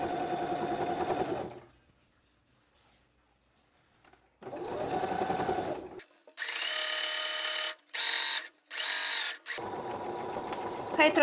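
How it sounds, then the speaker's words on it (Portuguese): A sewing machine topstitches a folded fabric hem in several bursts of fast, whirring stitching separated by short pauses and near silence, close and clear. "Retrocesso sempre no início e vou costurar normal."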